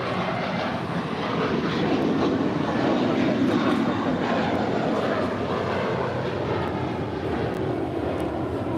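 A five-year-old JetBlue Airways Airbus A321 jet on its departure roll at LAX, a steady broadband engine roar that holds loud and even throughout, with no voices over it.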